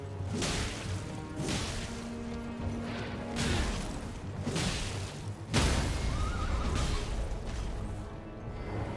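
A Night's Cavalry rider's horse in Elden Ring neighs sharply amid whooshing swings and heavy crashing impacts, loud and close, with repeated bursts across the fight.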